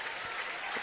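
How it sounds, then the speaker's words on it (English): Dense stadium applause from a college football crowd at a UCF versus Austin Peay game, a brief loud wash of clapping and crowd noise. "Big round of applause for Hughes."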